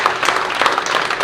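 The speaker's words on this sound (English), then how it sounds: "I guess we can do a round of applause for Stewart" Audience clapping after a hunting seminar talk, a dense, steady round of applause lasting the whole moment at moderate volume with no voices over it.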